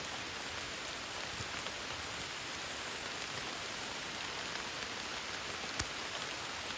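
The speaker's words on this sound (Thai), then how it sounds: "ฝนตกเรื่อยๆเลย หนักเรื่อยๆนะตอนนี้" Heavy rain pours down without a break, a dense, even hiss of falling water heard close by and alone, with no voices.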